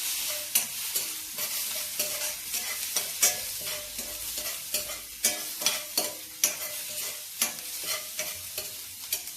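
Green chillies and ground paste sautéing in oil for fasting khichdi, a bright continuous sizzle punctuated by regular spatula scrapes and knocks against the pan, close-up with no voices.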